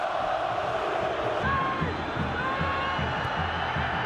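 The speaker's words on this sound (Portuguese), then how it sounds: "E solta a voz a torcida São Paulina no Morumbi." São Paulo supporters in the Morumbi stadium roar and chant at a football match against Universidad Católica, a dense, steady wall of crowd voices with a few whistles rising above it.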